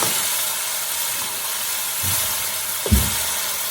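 Chicken pieces cook in a pan on a stove at medium-high heat for chicken jalfrezi, giving a steady broad sizzle throughout, with a couple of brief louder pops and spits near the end.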